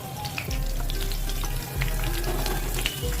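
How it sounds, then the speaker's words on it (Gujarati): Cumin, fennel, asafoetida and curry leaves hit hot oil and sizzle steadily and close, a continuous frying hiss that swells and eases slightly over a few seconds, with no one talking. "આપણે આ તેલમાં હવે જીરું એડ કરશું, થોડી વરિયાળી એડ કરશું, આપણે હિંગ એડ કરશું, આપણે થોડા લીમડાના પાન એડ કરશું"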